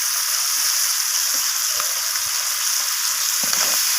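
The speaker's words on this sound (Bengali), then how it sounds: "তো সমস্ত কিছু চিংড়ি মাছের সাথে এইভাবে নাড়াচাড়া করে কষিয়ে নিচ্ছি" Shrimp sizzles steadily in a hot pan with chili powder, cumin powder and ginger paste, a loud, continuous frying hiss close by with faint scrapes of stirring and no voices.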